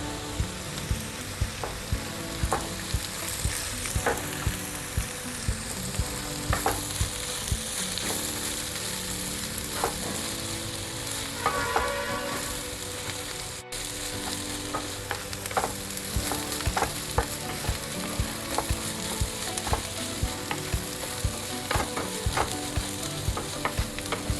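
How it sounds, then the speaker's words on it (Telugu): Ivy gourd stir-fried with a coconut, green chilli and garlic paste in a pan, a continuous loud sizzle broken by frequent spatula scrapes and taps, with no voices. "ఇప్పుడు ఇందులో మనం పేస్ట్ చేసి పెట్టుకున్న కొబ్బరి, పచ్చిమిర్చి, వెల్లుల్లిపాయ పేస్ట్ కలుపుకుందాం"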